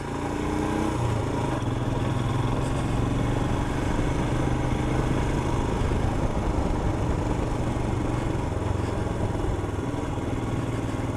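A Royal Enfield Himalayan motorcycle engine runs steadily at low speed in third gear, a continuous loud drone with a low throbbing rumble and wind noise lasting throughout, with no talk over it.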